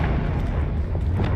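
A Confringo fire-blast spell explodes in Hogwarts Legacy, a brief, loud, rumbling boom that fills the whole moment.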